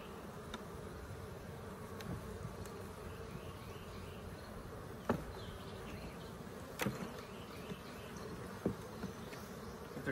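A honey bee colony hums during a hive relocation, giving a continuous, even buzz with occasional louder individual bees passing close by, and no one speaks.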